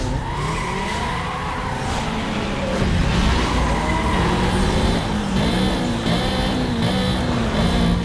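Cars launching at a drag race start in the video game NFS Most Wanted 2005 (Redux mod), loud roaring engines with rising revs and squealing, skidding tires, steady and close throughout.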